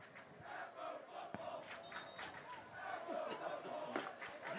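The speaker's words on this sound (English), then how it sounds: "Get an Apo football cheering from the Salesianum fans" Salesianum fans cheering and shouting at a high school soccer championship game, a distant crowd roar with scattered yells and chatter, fairly faint and continuous.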